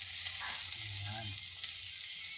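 Garlic and onion sizzle in hot cooking oil in a pan, a steady bright crackling hiss with a faint stir partway through, close and continuous.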